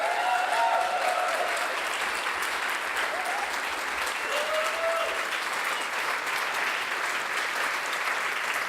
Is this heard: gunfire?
no